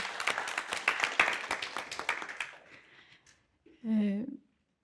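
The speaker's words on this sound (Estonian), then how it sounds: "aplaus selle peale ka" Applause from an audience at an Estonian literary prize nominee event, scattered claps fading over about three seconds before a brief voice near the end.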